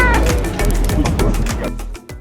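Cats at the seaside cat colony in Torremolinos meow repeatedly over dense, loud background noise and music, several calls overlapping close by.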